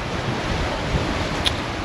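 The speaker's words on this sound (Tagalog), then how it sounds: "Lakas ng hangin eh" Strong wind gusting across an open microphone outdoors, a dense continuous roar with a slight rise near the end and no voices.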